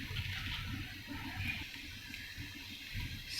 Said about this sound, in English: We add our rice inside.